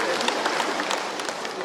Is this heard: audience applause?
yes